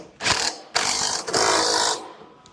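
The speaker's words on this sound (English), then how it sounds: "We now need to put these screws back." A screw is driven back into a Samsung front-loading washer during a bearing replacement, making a close, buzzing, ratcheting whir in two sustained bursts with a short pause between, and no talk.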